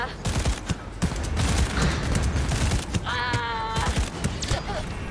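Smart pistol fire in Cyberpunk 2077 crackles in dense, rapid bursts of close gunshots mixed with game effects and electronic tones, while a player talks over the action.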